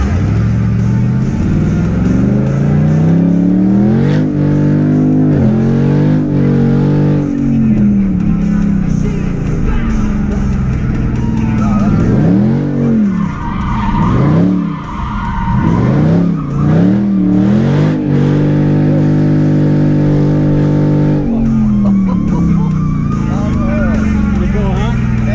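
A Dodge Hellcat at the 2016 Chrysler Nationals roars loudly and up close, its engine revving in repeated rising and falling sweeps for the whole stretch, with rough tire-skidding noise mixed into the middle section.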